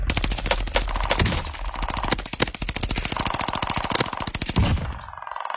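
Rapid automatic gunfire in the shooter game Warzone, long sustained bursts of close, loud shots with a few brief breaks, dense and continuous without speech.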